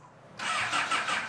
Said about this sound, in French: Ah bah non, elle va pas démarrer, il n'y a plus de batterie.